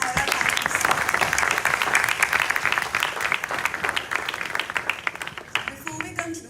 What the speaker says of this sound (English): If you could have a very big round of applause for all our panelists.